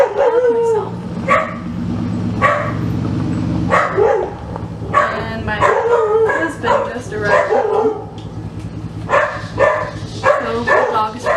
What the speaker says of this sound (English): so the dog is freaking out